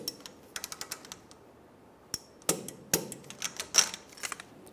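Sharp metallic clicks and ratcheting snaps from a torque wrench tightening a bolt on a rear shock absorber of a 2012-2020 Chevrolet Sonic, irregular and close, with a few louder clacks near the end.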